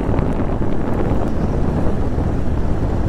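Cold wind buffets the microphone during a motorcycle ride on a mountain road from Tato to Menchukha in Arunachal Pradesh. It makes a loud, constant low rumble with no voices.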